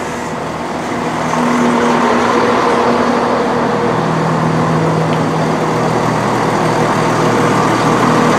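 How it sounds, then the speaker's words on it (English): A train pulling into a station on the line to Worcester Foregate Street, a steady broad rumble that swells after the first second and then holds at a loud, even level with a faint low engine drone underneath. "We're going to end this video with our train arriving to take us to Worcester Foregate Street."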